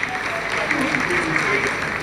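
Applause rises from the mission control room during the Chandrayaan-3 lunar landing, a steady wash of clapping from many people with a voice talking over it.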